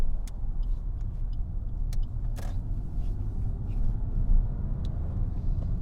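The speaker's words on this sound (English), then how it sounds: "Now that car's turning" A car turns on a road nearby, a low steady engine rumble and tyre noise running throughout with a few faint clicks, no voices.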